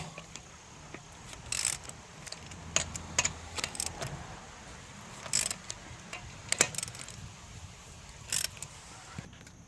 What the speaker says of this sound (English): We're going to go ahead and break these lugs loose before we go to lifting the vehicle.